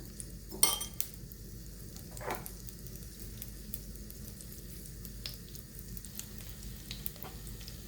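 Mustard seeds and cumin frying in hot oil, a soft continuous sizzle with a few sharp clinks of a spoon or utensil early on, close and fairly quiet, no voices.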